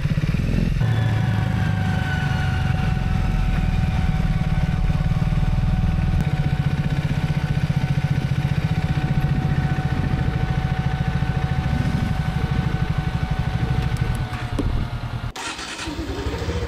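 A TR400 motorcycle rides on a Jeju Island road toward the 1100 Highland parking lot, its engine droning loud and steady up close for a long stretch before the sound shifts and drops near the end.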